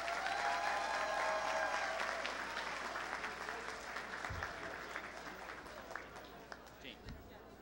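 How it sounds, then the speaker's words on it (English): An audience at a 2019 graduation ceremony applauds a group of graduates, a sustained burst of clapping that starts full and slowly thins out, with a few voices faintly audible underneath. "We can do a big round of applause for our first group,"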